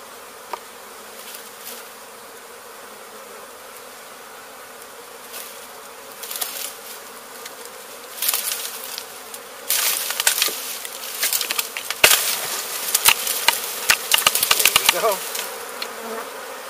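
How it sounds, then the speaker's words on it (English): A honey bee swarm holding three queens, in Weslaco, Texas, makes a steady, dense buzz that grows louder and busier partway through, with close passing bees and crackling handling noises. "A lot of bees in this swamp."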